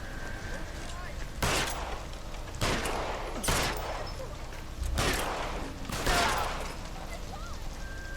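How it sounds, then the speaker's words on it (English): Gunfire in the L.A. Noire video game: a run of loud, sharp shot bursts, about five of them, spaced a second or two apart, each with a short ringing tail over a low background bed. "So I guess we're gonna have to shoot him."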